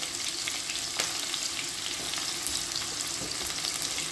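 Sliced onions frying for chicken shawarma sizzle steadily in a pan, a dense continuous crackle with occasional louder pops, close and alone without talk.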